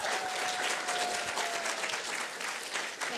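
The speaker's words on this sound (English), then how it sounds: "a round of applause for Rachel." Audience applause at a startup pitch event, dense steady clapping from a crowd filling the whole few seconds, close and fairly loud.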